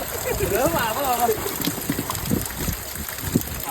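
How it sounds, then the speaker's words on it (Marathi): Rain falls steadily outdoors during a monsoon fishing outing, a dense hiss of water with voices heard briefly near the start. "पाऊस भरलाय लागला"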